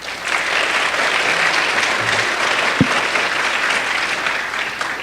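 A school board meeting crowd claps steadily, a dense wash of applause from many hands filling the room without pause, with a single sharper knock partway through; nobody speaks.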